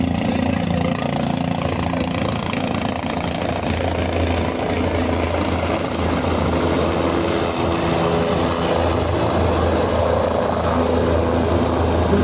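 A helicopter touching down at the Kedarnath helipad in the mountains, a loud steady roar of engine and rotor that fills the whole stretch without letup, close by.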